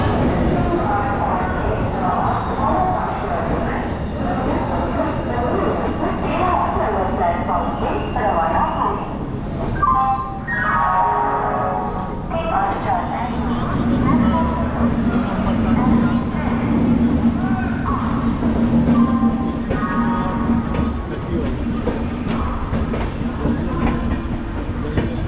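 Passenger train running from Howrah to Bolpur, a steady loud rumble of wheels on track with rhythmic clatter and occasional clicks throughout, with people talking faintly in the carriage.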